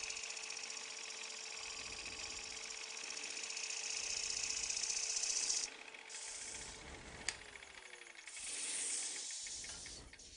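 Garden shears are scraped against the side of a grinding wheel, giving a continuous bright grinding hiss over the spinning grinder's steady whine, with a sharp click partway through and a brief dip before the scraping resumes.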